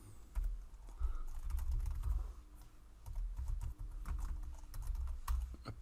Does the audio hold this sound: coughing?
no